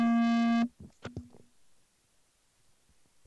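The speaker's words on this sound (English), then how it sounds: "the phone just booped" A phone gives a sustained electronic beep tone lasting about half a second, loud and steady, followed by a few brief soft knocks and then near silence.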